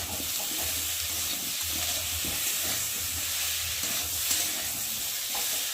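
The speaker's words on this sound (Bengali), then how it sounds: "আর এখন আমি এর মধ্যে চিংড়ি মাছটা দিয়ে দেবো, দিয়ে একসাথে ভালো করে কষিয়ে নেব।" Shrimp sautéed with spices in a pan for a Bengali dish: a steady, close hiss of frying with faint stirring scrapes mixed in, even in loudness throughout.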